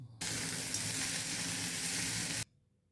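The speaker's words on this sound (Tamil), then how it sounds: "மூணு தக்காளியை போட்டு நல்லா வதக்கணும் புளி கொத்தமல்லி தலை உப்பு போட்டு நல்லா வதக்கணும்" Tomatoes, tamarind, coriander stems and salt sauté in a hot pan for chutney, giving a loud, steady sizzle that cuts in abruptly and runs for about two seconds before stopping sharply.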